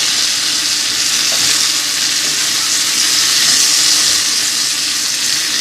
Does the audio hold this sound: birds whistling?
no